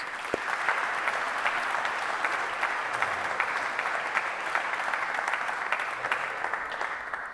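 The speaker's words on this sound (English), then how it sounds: "So give yourself a round of applause for your resilience." Graduates at a Dumfries and Galloway College graduation ceremony give a steady round of applause filling a hall, even and moderately loud from start to finish.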